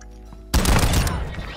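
A full-auto sniper shotgun fires in a video game, a sudden loud blast breaking a quiet moment and followed by rapid overlapping shots that echo and fade over about a second.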